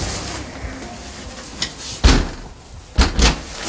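A door bangs shut with a sharp thud, followed by a couple more knocking bumps against a quiet room background.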